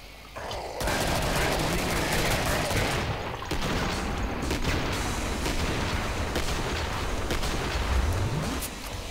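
Rapid gunfire from the Killing Floor survival finale, a dense, loud, sustained barrage of shots running almost the full length with barely a pause.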